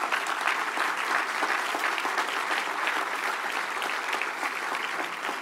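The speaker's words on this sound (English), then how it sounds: "you owe them all a very, very good round of applause for what they did" An audience at a press event on the 2026 FIFA World Cup in Kansas City breaks into sustained applause, an even wash of clapping from a sizeable crowd, moderately distant and without talk over it.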